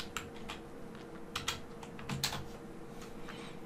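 Typing on a computer keyboard while setting up a Moodle site, with short clusters of close, light key clicks separated by brief pauses, no talking.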